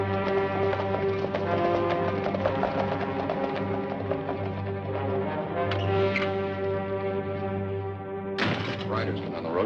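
Horses with riders coming along a road, steady clip-clop of hooves beneath a loud, sustained musical score and other film sound, with a sudden sharp accent near the end.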